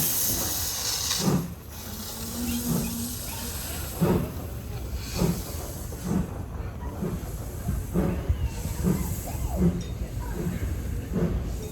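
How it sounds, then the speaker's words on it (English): A locomotive shunting at Foxfield Railway on a rainy day hisses and chuffs in a slow, irregular rhythm, with bursts of steam and clanking, heard from nearby over steady background noise. "The locomotive that we'll be travelling on today is involved in some shunting"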